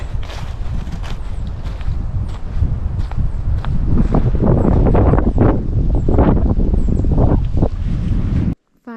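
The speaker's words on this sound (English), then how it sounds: "It's very, very windy." Strong wind roars steadily and loud across a hiking trail on the Ouachita Trail, gusting continuously with some rustling and footfall-like thumps underneath, then cutting off abruptly near the end.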